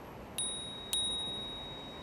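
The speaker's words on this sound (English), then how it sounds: "Pretty feeble bell" Two quick dings of a small bicycle bell, thin and high-pitched, fairly faint against a steady background hum.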